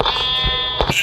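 Sheep bleating in the Minecraft video game, two or three short nasal bleats in quick succession, loud and close over a steady background music bed, with no talk.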